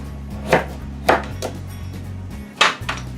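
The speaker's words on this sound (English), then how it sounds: "Maybe this big hunk will cut in half." A knife chops carrots on a cutting board, a few sharp, distinct thuds spaced irregularly, close and clear over a low background hum.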